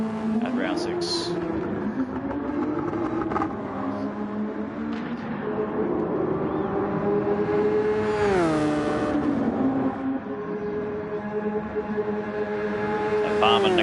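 A Formula 2 Dallara SF19 race car held at full throttle through Eau Rouge at the Belgian circuit in a racing game: a high, steady engine whine rising and falling in pitch, with commentary talking over it throughout.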